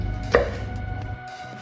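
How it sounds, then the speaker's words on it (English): A single crisp knife stroke through chili on a cutting board, close and fairly loud, over a low steady background hum with no voices. "So you can cut chopped chili."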